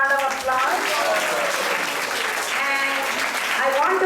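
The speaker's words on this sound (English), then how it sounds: "So let's give her a big round of applause" Audience round of applause at a Hindu temple festival in Atlanta, steady full clapping that carries through the whole moment, with voices talking and calling out over it.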